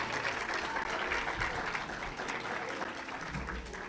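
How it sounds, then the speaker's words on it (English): Applause from a live audience at a debutante ball, many hands clapping in a full continuous wash that fades slightly toward the end, with no speech over it. "Give yourselves a round of applause"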